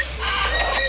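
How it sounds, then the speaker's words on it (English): A large bird at a parrot park gives a short, loud squawking call up close, a single brief burst over a low steady background hum. "look at this giant bird"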